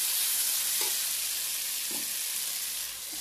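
Ginger, cumin, garlic and coriander paste frying with spices in a pan, a steady broad sizzle with a few soft stirring scrapes, close and alone.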